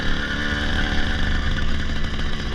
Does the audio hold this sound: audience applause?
no